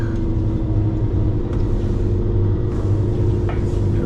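A car descends a forest road near Glen Hurich at Polloch in Scotland, giving a steady, close engine rumble and road noise with occasional knocks from the tyres and suspension, and no voices.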